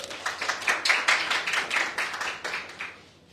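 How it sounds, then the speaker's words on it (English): An audience at an entrepreneurship pitching event applauds, a dense burst of hand claps lasting about three seconds before fading out, with no voices over it. "So give her a round of applause."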